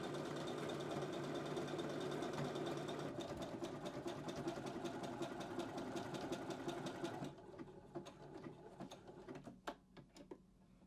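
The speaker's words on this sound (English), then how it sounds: "Remove your pin, carry on sewing." Sewing machine stitching a seam, a steady fast mechanical whir with rapid needle ticks that drops to a quieter, slower run of separate clicks near the end; no speech.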